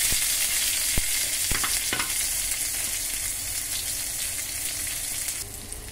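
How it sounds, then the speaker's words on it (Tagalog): Onion sautéing in a hot pan, a steady close sizzle and fry broken by a few sharp clinks and scrapes of a utensil, with no talking. "pagigisa na tayo ng onion"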